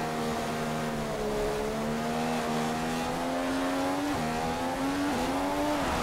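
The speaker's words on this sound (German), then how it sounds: "Interessant, die Reifen drehen noch durch." A Ferrari-engined Formula 1 car in F1 2015 during practice at Montreal, Canada, with a loud continuous engine drone and tires spinning, the pitch wavering as the wheels slip, no voices over it.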